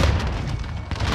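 A grenade goes off in the video game Call of Duty Warzone, a dense, loud, rumbling boom that fills the whole moment with sustained low-end roar and no voices over it.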